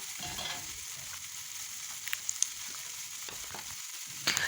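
Pabda fish curry (tel jhal) bubbles quietly in a pan with water added for the gravy, a faint, steady sizzle with a few soft clicks and pops near the end.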